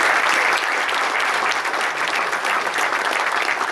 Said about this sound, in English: Please give a round of applause for